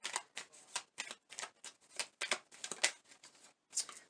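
Message cards being shuffled by hand, a quiet close series of riffling bursts in an uneven rhythm with brief gaps between them.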